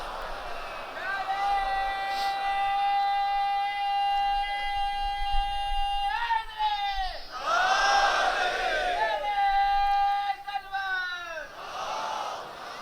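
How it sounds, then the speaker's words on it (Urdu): Congregation at a Sham-e-Ghareeban majlis loudly reciting salawat in unison, a sustained chanted crowd voice that swells and breaks into overlapping waves of response, reverberant and close. "ایک صلوات بھیجے بلند آواز پر محمد و آل محمد۔"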